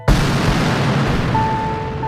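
Cannon fire in a naval battle lets out one loud, sudden boom that fades into a long, heavy roaring rumble.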